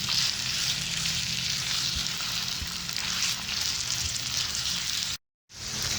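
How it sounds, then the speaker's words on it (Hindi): Minced meat (keema) fries in a pan over a medium flame, giving a loud, continuous close sizzle with a steady crackling hiss, broken only by one brief drop-out near the end. "कीमे को भी हम मीडियम फ्लेम पे तब तक फ्राई करेंगे जब तक इसका कलर वाइट ना हो जाए"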